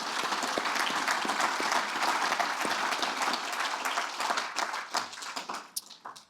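Loud, sustained applause from an audience at the 2026 SA Environment Awards ceremony. The clapping is many-handed and steady, then thins into scattered claps as it fades out.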